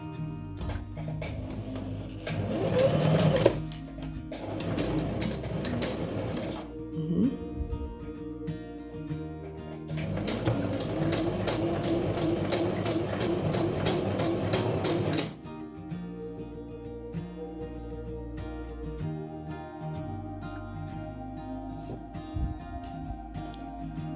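A sewing machine running zigzag stitches along fraying fabric edges, in bursts of rapid mechanical stitching with pauses between runs, close and fairly steady.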